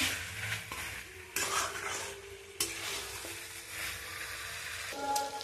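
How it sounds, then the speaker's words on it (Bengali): Chicken stir-fried in a pan, a busy close-up sizzle with a spatula scraping and clattering against the metal, several sharp knocks over a continuous frying hiss. "চিকেনটা কষাচ্ছি।"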